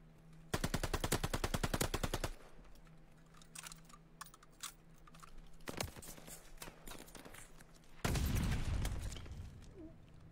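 Rapid bursts of automatic gunfire from a competitive online shooter match, a dense rattling volley near the start, then scattered shots and clicks, with a loud final burst toward the end.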